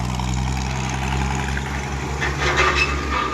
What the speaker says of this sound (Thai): ใช้ดีมากครับรถบดคันนี้เสียงนุ่มนะครับวิ่งดี